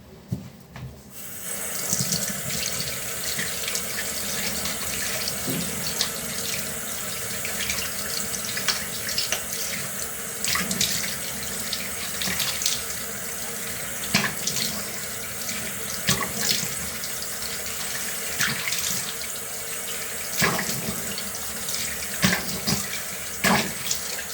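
Tap water runs steadily into a sink while something is washed, a close continuous splashing stream with small shifts as hands move through it.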